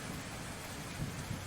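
Rain and thunder in the spooky video game Colorful未来 outside Dracula's mansion: steady, fairly faint downpour hiss with low rumbling thunder swelling underneath, no voices.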